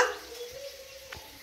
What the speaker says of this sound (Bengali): এখানে 3 পিস মাছ ভাজা হচ্ছে।